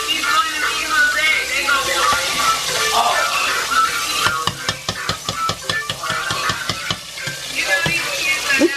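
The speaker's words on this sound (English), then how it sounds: "Yeah, I'm almost done frying the shrimp." Shrimp frying in a pan during a home birthday party, a steady sizzle with stirring and clinking utensil taps, while people talk nearby.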